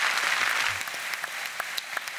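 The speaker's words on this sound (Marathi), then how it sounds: "सरांसाठी खरंच जोरदार टाळ्या." Audience applause after a one-man comedy play performance on a TV comedy show, a dense wash of clapping that is loudest at the start and thins into scattered individual claps toward the end.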